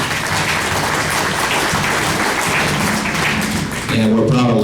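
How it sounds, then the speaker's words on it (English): Applause from the crowd at the 2012 Red Lake Nation College graduation ceremony, a steady dense wash of clapping that runs the whole stretch and swells slightly near the end as a voice speaks over it. "we'll just give them a round of applause"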